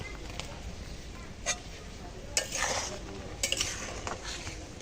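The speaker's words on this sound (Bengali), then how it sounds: "একটু ভালো করে মিশিয়ে নিলাম।" Crab and taro curry in a pot with turmeric and salt added, stirred with a spoon: a few faint metallic scrapes and clinks over a soft background hiss, quiet and close.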